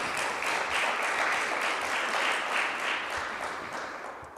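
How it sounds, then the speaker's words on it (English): Audience applause at a national tourism debate competition launch, an even wash of many hands clapping that stays steady and slowly tapers toward the end. "I want to give you a round of applause"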